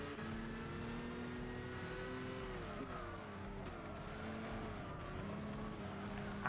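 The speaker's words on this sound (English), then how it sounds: "I just drifted the Le Mans car." A Le Mans race car drifts in Gran Turismo 6 at Brands Hatch, its engine drone shifting pitch through the slide amid steady tire noise and racing ambience, with no talk.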